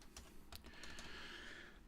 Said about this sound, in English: I'm using a different keyboard